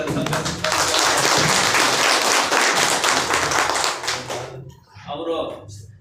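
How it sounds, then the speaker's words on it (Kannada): Crowd at a Vishwakarma Day celebration in Mulbagal claps loudly and steadily for about four seconds, then the applause fades and a voice speaks briefly. "ಎಲ್ಲ ಜನತೆ ಅವರಿಗೆ ಚಪ್ಪಾಳೆ ಮುಖಾಂತರ ಅಭಿನಂದನೆಗಳನ್ನು ಸಲ್ಲಿಸುತ್ತಾರೆ"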